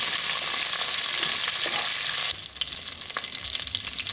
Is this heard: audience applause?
no